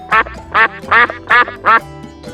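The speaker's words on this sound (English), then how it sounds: "A duck says quack." A duck quacks five times in a steady, evenly spaced rhythm, each call loud, close and nasal, with no voices.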